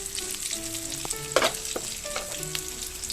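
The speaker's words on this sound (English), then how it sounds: "After about 5 minutes on low to medium heat, my cutlets are well fried on one side." Goan beef cutlets fry in a shallow layer of oil in a pan, giving a steady close sizzle with soft crackles and one brief louder burst, no talking.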